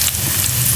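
Chopped onions fry in a pan for a Telugu-style palak potato masala curry, giving a brief, steady, close sizzle with a watery hiss and no speech.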